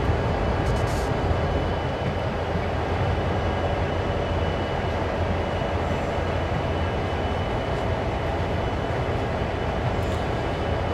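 A train in Train Sim World runs continuously with a dense, steady rumble and rolling rail noise, loud and unbroken throughout, with faint brief clicks near the start and end and no voices.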